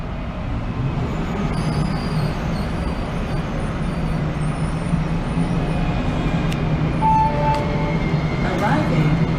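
Steady low rumble of a DART Orange Line light rail train arriving at a station, with rail noise building, plus a brief chime or beep tone near the end.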